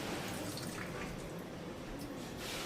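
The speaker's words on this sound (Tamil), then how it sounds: "லெமன் ஜூஸ் ஊற்றிக்கலாம்." Lemon juice is poured into a marinade of chicken, chili powder and whole garam masala powder for Hyderabadi chicken dum biryani, making a soft, continuous liquid splashing and trickling sound close by, with no talking.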